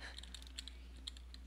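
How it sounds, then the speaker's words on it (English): Computer keyboard keys clack quietly in a steady, uneven patter while a low electrical hum runs underneath, during a horror video game play session. "I hate hearing the keyboard sounds in the background."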